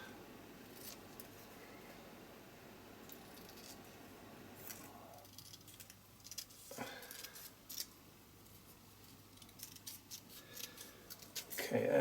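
Scissors snip through paper while cutting out a piece for a mixed-media art journal page, a series of faint, close crisp cuts and rustles spread across a quiet room, growing slightly louder toward the end.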